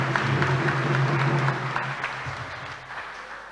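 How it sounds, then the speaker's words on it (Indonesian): Church congregation applauding a choir group at a New Year Mass, a steady dense wash of clapping that holds for a few seconds and slowly thins out toward the end. "Tepuk tangan untuk mereka semua."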